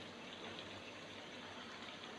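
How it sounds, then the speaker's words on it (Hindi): Leftover boiled pumpkin water is poured into a chicken and pumpkin masala gravy, giving a continuous soft rushing splash that stays faint and even for the whole short stretch. "जो हमारा बचा हुआ था हम थोड़ा इसमें डालेंगे।"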